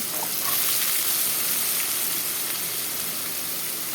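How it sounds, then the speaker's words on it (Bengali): Potatoes fry in hot oil in a pan, a loud, dense, continuous sizzle that holds steady and close with no talking. "এখানে আলু ভাজা বসিয়ে দিলাম"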